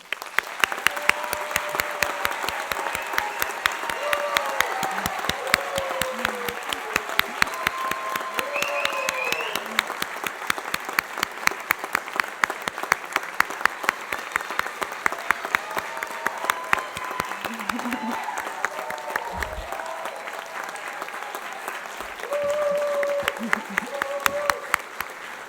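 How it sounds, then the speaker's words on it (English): Applause for engineering graduates at a Duke master's hooding ceremony. A large crowd claps in a long sustained wash, with scattered voices and cheers rising above it. "applause for our graduates"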